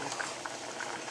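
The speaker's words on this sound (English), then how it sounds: "when it's boiling" Noodle broth bubbling at a rolling boil in a pot, a steady dense seething with brief pops, close and continuous for about a second with no talk.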